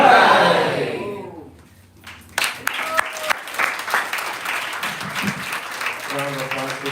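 Audience applause at a Janmashtami celebration in a Bhakti Center hall swells after a speaker's closing words, steady clapping with a few sharper claps, moderately loud and continuing under scattered voices.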